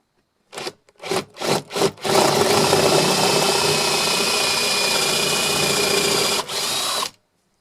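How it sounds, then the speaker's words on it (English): Hand chiselling wood on a guitar body, a few sharp knocks followed by a long steady scraping, rasping cut that runs close and loud before stopping abruptly with one brief break. "It should be quite an easy thing to do this, just chisel in nice and gentle."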